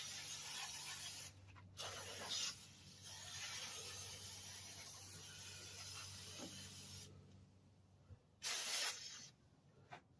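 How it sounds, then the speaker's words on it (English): Aerosol cleaner sprayed in hissing bursts onto a heavily greased, gunked-up, leaking power steering line on a vehicle, steady close spray with a few louder blasts near the end. "Yeah, all that grease, we're gonna try to spray that down."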